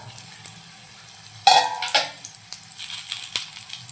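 Stuffed green chillies in Malvani style frying in a pan and being turned over, a soft steady sizzle broken by a few clinks and scrapes from the utensil.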